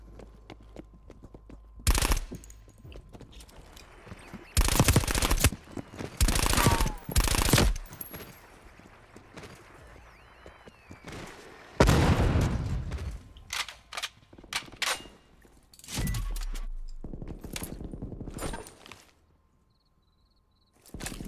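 Bursts of automatic gunfire in the Black Ops Cold War video game, an AK and an MP5 among the weapons, come as several loud sustained volleys separated by quieter gaps, with some faint lighter shots in between.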